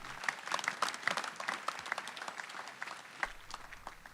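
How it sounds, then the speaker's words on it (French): Congregation applauding during a church healing service, a fairly quiet patter of claps with several sharper bursts, steady for about three seconds before thinning out and fading lower. "Applaudissons pour Jésus."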